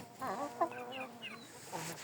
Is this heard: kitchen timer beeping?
no